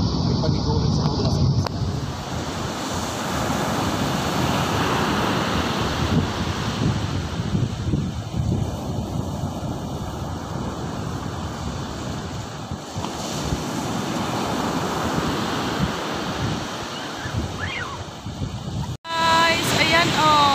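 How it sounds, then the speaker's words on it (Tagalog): Strong ocean waves break on a beach at Infanta, Quezon, creating a loud, continuous roar of surf with heavy wind noise and occasional faint voices. "Dito kami sa tabing dagat. Ang lakas ng alon."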